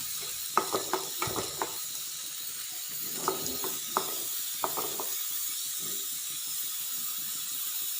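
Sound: stirring and frying beef curry mixture until brown

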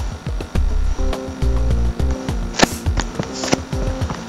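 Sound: Bluetooth-controlled robotic arm opening its gripper

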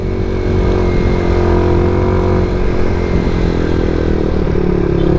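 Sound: scooter climbing a steep road

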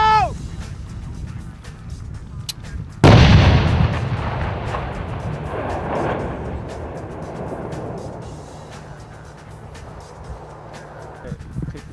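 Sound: military explosive charge detonation

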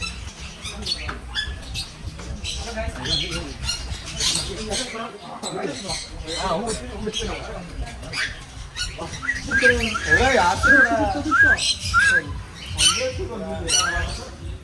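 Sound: parrot squawking

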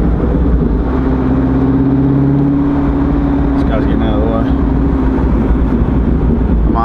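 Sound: Corvette C6 Z06 7-liter engine accelerating 0-60

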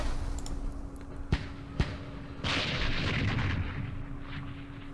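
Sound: artillery fire in the video game Campaign Series Middle East

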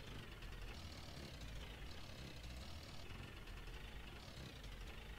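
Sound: car engine running in video game Jalopy

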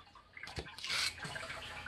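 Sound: recirculating pump overflowing water into fog chiller reservoir

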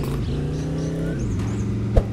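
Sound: Jeep car engine

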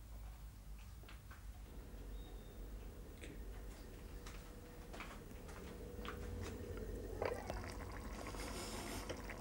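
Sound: chili con carne bubbling on the stove

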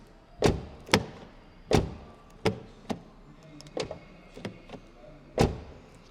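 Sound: car door of MG4 electric car closing

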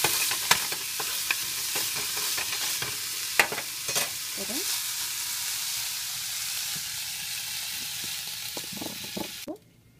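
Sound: paneer lightly frying in a pan

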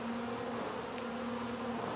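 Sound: honeybees buzzing in an opened hive

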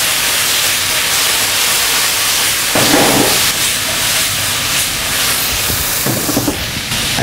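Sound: duck breast strips and wok vegetables sizzling while tossed in pan

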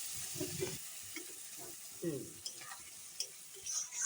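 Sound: sautéing chilli, cumin and coriander spice paste in a wok

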